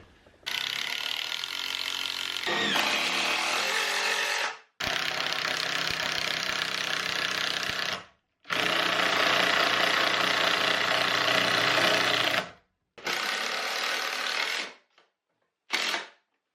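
A power driver sinks Torx exterior screws into a wooden board in several loud, close bursts of whirring and ratcheting, each separated by brief silences, the last burst short.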